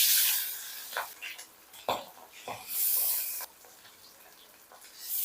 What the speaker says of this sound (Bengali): তেলটা গরম হয়ে গেছে। এখন আমি এক এক করে মাছগুলো দিয়ে দিব।